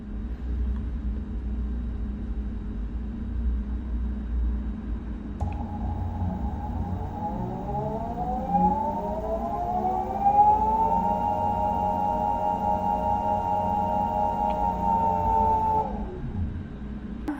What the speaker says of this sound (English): let's try to spin the motor up and see what we get. With the motor on in the low speed setting,